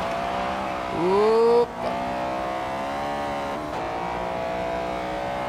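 A Honda Civic racing in Forza Horizon 3 Hot Wheels, its engine droning steadily with a brief rising rev and a short dip, while a man exclaims briefly over the game audio.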